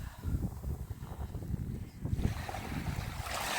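Strong wind roars and buffets the microphone on the Odesa seashore, with a steady rushing noise that grows louder toward the end.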